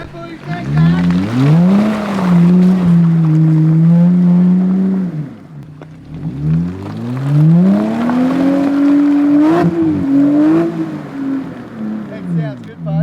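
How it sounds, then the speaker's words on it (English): Toyota Landcruiser V8 engine revving hard off-road on a 4WD track, two long rising-and-holding revs with a brief dip between, loud and close with rough mechanical texture. "those V8s sure do sound good when you put your foot down"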